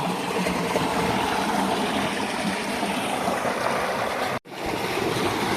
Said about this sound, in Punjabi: ਆ ਦੇਖੋ ਆਪਣੀ ਮੋਟਰ ਚੱਲ ਰਹੀ ਆ